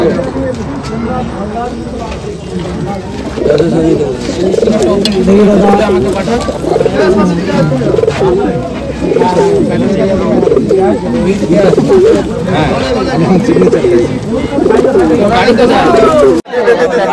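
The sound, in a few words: pigeons cooing before being released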